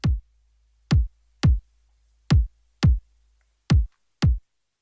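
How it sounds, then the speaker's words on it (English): Seven deep, punchy kick drum hits, unevenly spaced, each a short booming thump with silence between. "I found a third kick drum that sounds like this"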